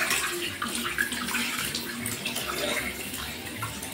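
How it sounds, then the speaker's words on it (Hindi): Water poured steadily over the scalp during a hair wash while the head is lightly massaged, a continuous close splashing and running-water sound with no talking. "स्कैल्प को पानी डालते जाना है और लाइट लाइट मसाज"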